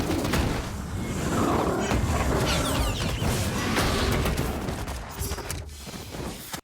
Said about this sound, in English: We have these guns. We hear them right here. And there's a lot of gunfire here.